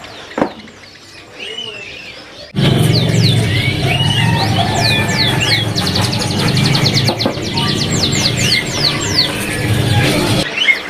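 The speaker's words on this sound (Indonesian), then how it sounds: "kita lagi coba pantau atau godain dari sini burung mulai siskin" Siskin songbirds at a busy bird market, with many rapid chirps and twittering calls overlapping in a dense cacophony over a low background hum of the crowd.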